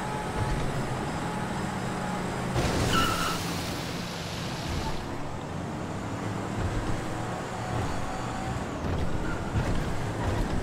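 A car speeding through the streets of GTA 5, a steady rushing roar of engine and wind noise that swells briefly, loud and continuous with faint background voices.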